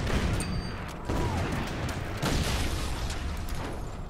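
Gunfire attacks an artillery piece in the World War II strategy game Order of Battle: Panzerkrieg, set in the Caucasus, with a dense crackling volley of shots and booming bursts throughout.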